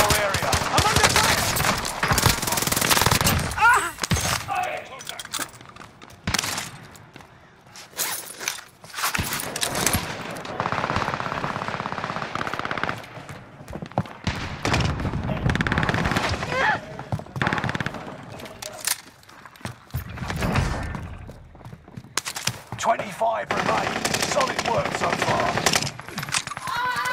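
Rapid automatic gunfire and scattered shots from the video game Warzone, played on PS5, come in loud bursts with short pauses throughout, mixed with game effects and occasional voice callouts.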